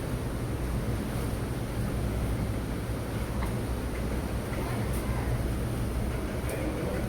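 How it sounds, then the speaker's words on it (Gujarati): Wind gusting across open village ground, a constant broad rushing roar buffeting the microphone without a break, steady and fairly loud throughout with no voices over it. "ઉપડ્યો પવન"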